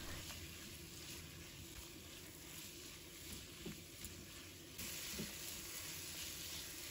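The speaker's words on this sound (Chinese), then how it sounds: "一定要开大火，将丝瓜给它翻炒1分钟，给它炒软炒透" Luffa gourd stir-fried over high heat in a wok, a steady broadband sizzle with soft scraping stirs, fairly quiet and continuous throughout, growing slightly louder near the end.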